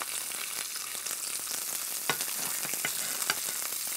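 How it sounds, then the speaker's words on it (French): Trout fillets sear skin-side down in a hot pan of olive oil and butter, giving a steady, close sizzle with a few sharp crackles and stirring clicks, with no voices. "Dans une poêle bien chaude avec un filet d'huile d'olive, je saisis les pavés de truite côté peau"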